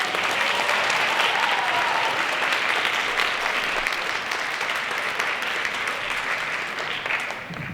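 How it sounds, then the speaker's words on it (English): An audience at a Poetry Out Loud 2023 recitation event applauds loudly to welcome a performer, a thick, sustained burst of clapping that stays strong throughout and eases off slightly at the end. "can we get an extra loud round of applause to welcome Eliana Spencer?"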